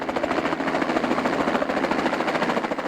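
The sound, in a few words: helicopter flying for deer capture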